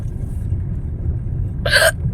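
A single sharp hiccup from a person sounds near the end of a short stretch of quiet outdoor background rumble.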